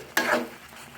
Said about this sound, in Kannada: ಮತ್ತೆ ಒಂದು ಸ್ಪೂನ್ ತುಪ್ಪವನ್ನು ಹಾಕಿ ಮಿಕ್ಸ್ ಮಾಡಿ ಮಿಕ್ಸ್ ಮಾಡಿ